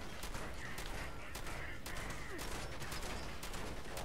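Automated turrets fire in Fallout 76 as a dense, continuous rattle of rapid shots, steady and moderately loud throughout with a few stronger bursts standing out.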